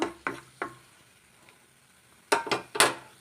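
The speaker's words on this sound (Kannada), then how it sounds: "ಇದನ್ನು ಸ್ವಲ್ಪ ಫ್ರೈ ಮಾಡೋಣ" Okra for bonda frying in a pan, heard as a few quiet spatula stirs and scrapes, each followed by a short sizzle, with faint hiss between them.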